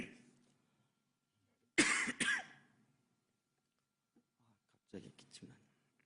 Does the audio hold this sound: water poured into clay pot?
no